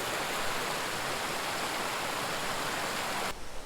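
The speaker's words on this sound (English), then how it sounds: "I hear water." Water rushes continuously near Turgut Falls, a dense, even broadband wash of flowing water, steady and unbroken, with no voices.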